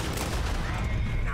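Dense, loud gunfire rattles continuously in a Red Dead Redemption 2 shootout, with overlapping shots merging into one brief fusillade.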